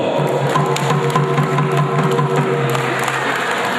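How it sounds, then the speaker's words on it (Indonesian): A crowd at a Batak community New Year celebration applauds a guest, giving a dense, continuous patter of clapping at steady volume, close and lively, with no speech over it. "Mari kita sambut dengan sukacita, tepuk tangan buat beliau."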